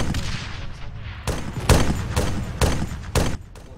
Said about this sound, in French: J'entends des coups de feu.